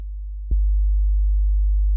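A low, steady 50 hertz hum test tone drones continuously, starting with a faint click and holding at an even level throughout.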